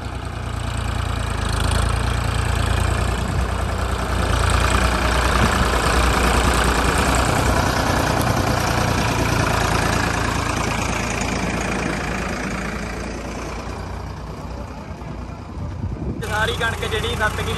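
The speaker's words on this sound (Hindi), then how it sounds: "लो भी बाबे ट्रैक्टर चढ़ रहा है पूरा जोरा जोरा ते" A tractor engine labors loudly and steadily as it climbs a slope on a farm during wheat harvest work, with a deep rumbling drone that eases near the end, with speech heard over it.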